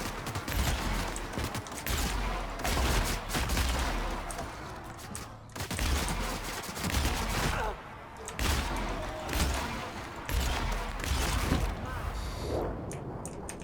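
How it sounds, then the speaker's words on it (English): Shotgun fire in The Outer Worlds game: loud, heavy blasts repeat rapidly and almost continuously through a fight, with booming low ends, brief gaps and a voice now and then underneath. "This shotgun is great."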